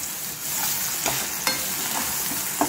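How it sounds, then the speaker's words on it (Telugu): Ginger garlic paste fries with mint and onions in a pan for chicken curry, giving a close, steady sizzle with a few scattered sharp stirring knocks over a short stretch. "దీంట్లో ఉన్న పచ్చి వాసన అంతా పోయేంత వరకు మనం ఫ్రై చేసుకుందాం"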